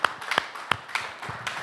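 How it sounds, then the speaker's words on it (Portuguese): A church congregation claps during a sermon, with scattered, uneven hand claps spread across a short burst rather than a full, dense round of applause. "Uma salva de palmas ao Espírito Santo"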